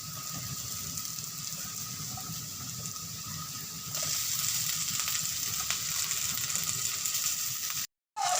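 Potatoes and onions sizzle steadily in a pan as they are stirred, with a broad even hiss that grows slightly louder partway through and faint scraping, no talking, ending in a brief cutout.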